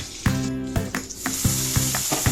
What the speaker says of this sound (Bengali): এবার কড়াই একটু তেল দিয়ে রসুনগুলো দিয়ে দিলাম।